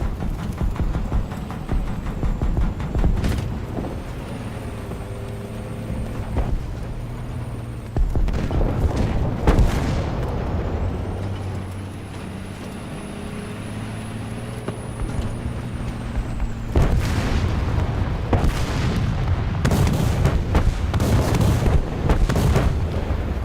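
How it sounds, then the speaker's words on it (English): Artillery strikes in the video game Guerilla land as a run of heavy, booming explosions, loud and close, broken up by stretches of rumbling engine noise and a high whine. "Artillery strike. Coordinates. Bravo. 2. Destroy. Bravo. 2. Acknowledged. Open fire."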